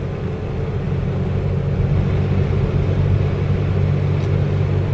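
A 1986 Chevrolet Celebrity station wagon rolls through a residential neighborhood, heard as a steady, close low engine and road rumble that holds even throughout with no talking.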